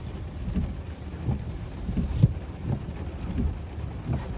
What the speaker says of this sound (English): hearing thunder.